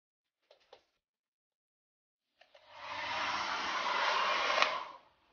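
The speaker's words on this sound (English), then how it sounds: "Show you how to dry my hair." After a few soft clicks and a short silence, a handheld hair dryer switches on and blows steadily for about two seconds while drying hair, then cuts off, close and moderately loud.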